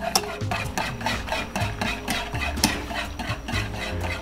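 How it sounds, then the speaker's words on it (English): A whisk beats haupia coconut pudding ingredients in a pot, making rapid rhythmic scraping and clinking strokes that stay close and continuous with no talking. "I'm gonna start the whisking"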